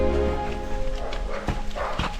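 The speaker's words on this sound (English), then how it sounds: "the dogs erupted again" Hunting dogs bark during a wild boar hunt at dusk, with a few sharp barks, around 1.5 and 2 seconds, over a steady outdoor background.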